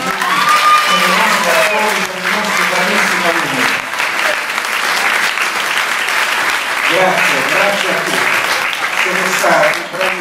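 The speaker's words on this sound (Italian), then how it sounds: "io vorrei intanto un grossissimo applauso per i vostri" An audience applauds loudly at a school play, with sustained clapping throughout and voices rising over the clapping at times.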